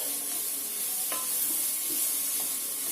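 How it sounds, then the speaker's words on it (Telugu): Rice being stirred into an egg and corn fried rice mixture in a hot pan, with a steady sizzle and a few soft spatula scrapes and taps. "రైస్ విడదీసుకొని దీంట్లో కలిపేసుకోండి"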